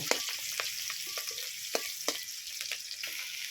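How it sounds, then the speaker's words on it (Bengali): Onions and green chilies fry in a pan, a continuous bright hiss of hot oil broken by a handful of sharper spatters and crackles as the spoon stirs, close and fairly loud. "কাঁচা লঙ্কা পেঁয়াজ দিয়ে খুব সুন্দর করে কিছুক্ষণ লাল করে ভেজে নেব"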